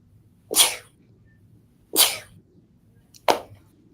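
A woman sneezes three times during a live televised shopping presentation, each sneeze a sharp, breathy burst about 1.4 seconds apart against a quiet room hum.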